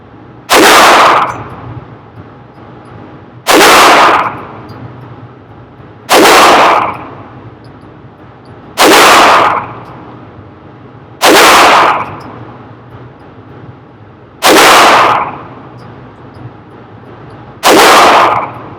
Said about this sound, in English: Glock 44 with the Great Gordo putting the first shots through his new gun.